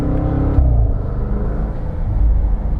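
A Range Rover Velar SV Autobiography engine rumbles deep and steady from inside the moving car, swelling slightly as it pulls.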